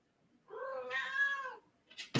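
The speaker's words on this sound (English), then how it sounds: "the cat agrees" A house cat gives one clear, drawn-out meow close by in a quiet room, followed by brief rustling noises.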